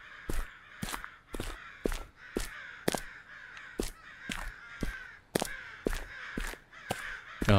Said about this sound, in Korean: 게임 사운드는 까마귀 소리가 다인 거야?